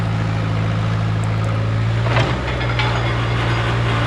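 An Oliver OC-3 crawler loader's engine drones in a steady, low, close-up rumble, with a single heavy clunk partway through as it rolls over a homemade speed bump.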